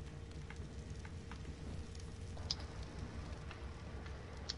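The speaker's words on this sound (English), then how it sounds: "Now it's raining." Steady rain falls in the video game Ark, a soft, even patter with faint scattered drips and ticks, fairly quiet throughout with no voices.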